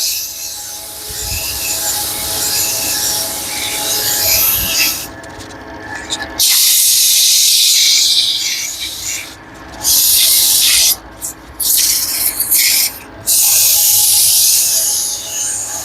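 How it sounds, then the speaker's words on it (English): Steady abrasive rubbing of sandpaper against spinning wood, continuous and close, with the pitch and intensity shifting as pressure changes, occasionally swelling louder. "That's about all the sanding I'm going to do on it."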